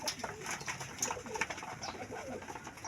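Racing pigeons cooing steadily at a derby loft in Tagudin, Ilocos, the soft repeated coos layered with other bird calls under faint background noise, no talking.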